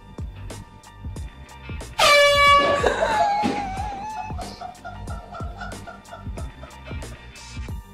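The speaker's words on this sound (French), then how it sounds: "Je ne sais pas si vous aussi vous avez sursauté en entendant le coup de klaxon" A sudden loud air horn blast rings out and slowly fades, over a background of rhythmic knocking and clattering.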